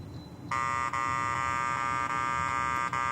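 A PIMAX 3 metal detector's steady, buzzy tone for non-precious metal switches on abruptly and holds, low and harsh, with slight dips, over faint background noise.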